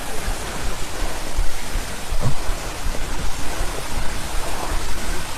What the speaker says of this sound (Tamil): இந்த அருவி சத்தம் தாங்க கீழே வரைக்கும் கேட்குது